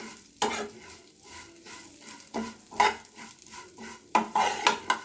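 Vermicelli frying in ghee in a pan, stirred with a utensil: repeated sharp metallic scrapes and clinks against the pan in an irregular rhythm over a soft sizzle, close up with no talking.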